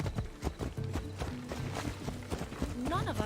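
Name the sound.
horse hooves in Assassin's Creed Odyssey video game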